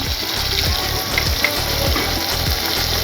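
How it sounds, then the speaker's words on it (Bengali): Boiled chickpeas fry with spices in a pan for a chola curry, giving a steady, close sizzle with soft scraping stir strokes repeating throughout and no talking. "বুটগুলো আমরা মশলার সাথে খুব ভালোভাবে কষিয়ে নিব"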